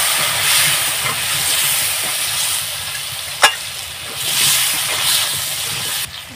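Potato pieces fry in hot oil seasoned with salt and turmeric, giving a steady, loud sizzle with stirring scrapes and one sharp utensil clink partway through.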